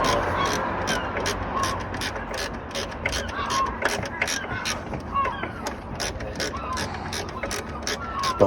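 A ratchet clicks in quick repeated bursts while tightening starter motor bolts on a Peugeot 205 diesel, close and fairly quiet, with a voice talking faintly underneath.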